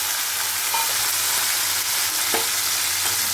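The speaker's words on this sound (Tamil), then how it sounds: "சின்ன வெங்காயம் போட்டு அது எண்ணெயில் நல்லா வணங்கணும்" Cumin, pepper and small onions fry in hot oil, giving a dense unbroken sizzle up close with a couple of faint stirring clicks and no speech.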